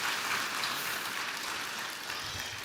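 Sustained applause from a church congregation during a Sunday evening service, steady dense clapping filling the space at even loudness throughout with no pause.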